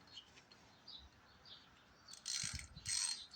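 A ratchet loosens the spark plug on a 1962 Hahn Eclipse rototiller, giving two short bursts of quick metallic clicking late in an otherwise quiet, close stretch.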